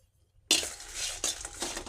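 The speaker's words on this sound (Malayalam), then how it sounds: "അപ്പോൾ ഇതും നമുക്കൊരു പാത്രത്തിലേക്ക് മാറ്റാം." Roasted toor dal being scraped and poured from a pan into a bowl, a sudden loud rattling rush of grains against metal with a couple of further scraping bursts, close and without talk.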